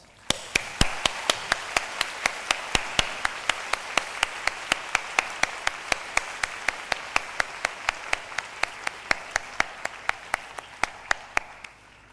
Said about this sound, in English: let us all join our hands to give these 3 groups of people a warm round of applause